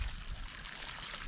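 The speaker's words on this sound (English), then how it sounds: "The rice is done, time to drain it, drain the water." Water drains from cooked rice in bags during a coastal Alaska camp meal, a brief, close pouring trickle with a faint splash, and no one talks.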